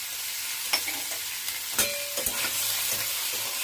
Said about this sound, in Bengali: হালকা লালচে করে পনিরগুলোকে ভেজে নেব।